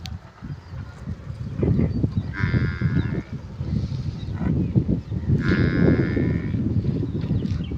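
Two long, loud water buffalo moos a few seconds apart, nearby, over a busy background of shuffling and farmyard noise.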